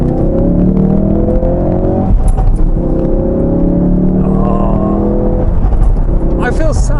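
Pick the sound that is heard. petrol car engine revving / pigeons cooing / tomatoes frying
petrol car engine revving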